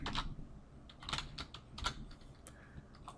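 Keys clatter on a computer keyboard in irregular bursts of close, crisp clicks, with a few sharper single taps between pauses.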